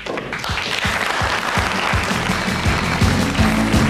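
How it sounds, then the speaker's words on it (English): A large Filipino crowd, embassy staff among them, claps and cheers loudly at a snooker match, the steady dense applause rising as it goes on. "Large Filipino contingent here, including people from the embassy, cheering on the maestro."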